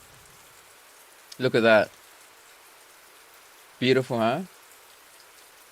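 Steady hiss of rain falling outdoors, continuous and soft throughout, with someone briefly speaking over it twice.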